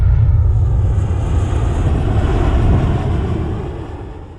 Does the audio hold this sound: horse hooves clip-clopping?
no